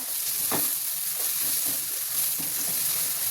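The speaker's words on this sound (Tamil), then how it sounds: "இப்போ நல்லா வதக்கிக்கலாங்க" Onions and spices being sautéed in hot oil in a pan for a chicken gravy, with a steady sizzle and occasional stirring scrapes throughout, no talking.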